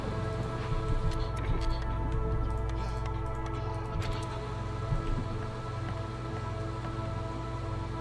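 Hail pounds down steadily during a storm in the video game Against the Storm, a dense, even patter that holds throughout with no voices.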